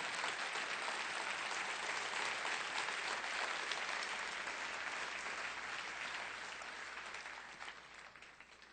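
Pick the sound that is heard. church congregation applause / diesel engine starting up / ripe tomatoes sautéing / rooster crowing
church congregation applause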